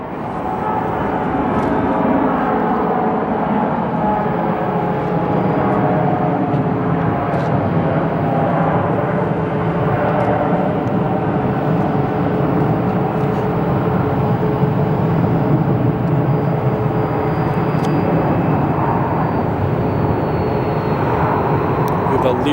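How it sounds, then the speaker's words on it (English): A CRJ 700 regional jet departing Phoenix Sky Harbor Airport, a steady distant turbine roar and whine sustained evenly throughout, with a voice talking over it. "Leaving now is that CRJ 700 going to Flagstaff."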